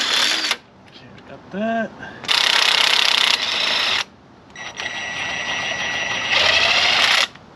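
A 19mm nut and bolt is worked loose from the rear axle of a Jeep Wrangler TJ, with short bursts of ratchet and metal clicking between loud pauses, and a voice speaking briefly.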